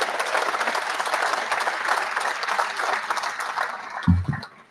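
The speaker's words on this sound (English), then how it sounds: "And let's give those guys a round of applause." Audience applause fills a celebration marking the 100th anniversary of a high school baseball program, steady sustained clapping from a crowd that swells slightly and then fades out.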